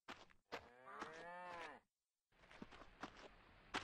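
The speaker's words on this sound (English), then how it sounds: "There's a bunch of cows over here." Cows and a horned bull moo in the survival video game SurvivalCraft, one long drawn-out low moo followed by a pause, then shorter grunting moos and soft footsteps, fairly quiet.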